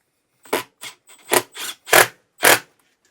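Foam is scraped off an RV air conditioner distribution box in about six short, rough rasping strokes, spaced unevenly and heard up close with no talking.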